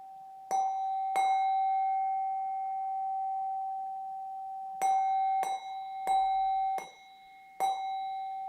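A meditation bell rings at the close of a guided session, a clear sustained chime struck twice, then struck again several times in succession, each tone ringing out and fading in a quiet room.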